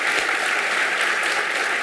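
Audience applause at a law school's Supreme Court term review event, a brisk, even clatter of many hands clapping steadily throughout.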